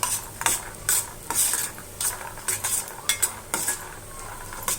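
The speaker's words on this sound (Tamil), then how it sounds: "இதையும் இதோட கூட சேர்த்து நல்லா வறுக்கலாம்" Cashew nuts frying in oil and being stirred in a pan while lemon rice is cooked, with a steady close sizzle broken by repeated scraping stirs and spoon clinks against the metal, and no voices.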